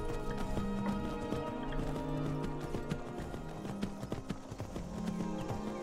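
Rhythmic clip-clop of hooves from a galloping horse in the video game The Elder Scrolls V: Skyrim, steady and fairly close, with a sustained tone running beneath.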